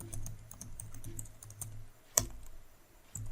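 Quiet, close keystrokes tap out on a computer keyboard in an uneven, rapid patter, with one sharper key press standing out near the middle.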